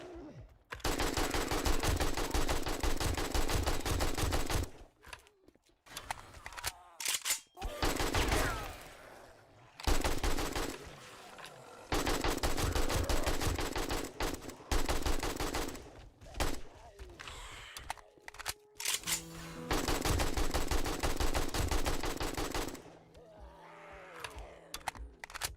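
Sustained bursts of AK rifle fire in the video game 7 Days to Die come in long loud runs with brief gaps, mixed with faint groans and grunts.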